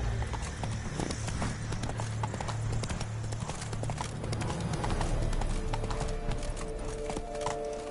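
Hooves clip-clop in a steady galloping rhythm as a horse runs in the video game The Witcher 3, loud and continuous over a low ambient drone and scattered game effects.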